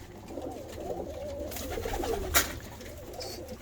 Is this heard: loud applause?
no